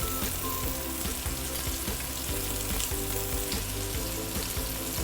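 Tofu pieces sizzle and fry steadily in a pan of hot oil until golden brown, a dense continuous crackle close up with no talking.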